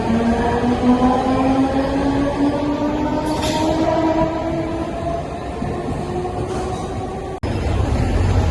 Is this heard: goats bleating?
no